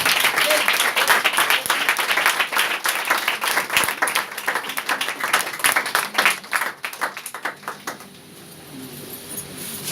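A church congregation applauds with dense, loud, sustained clapping that thins into scattered claps near the end, with some voices mixed in.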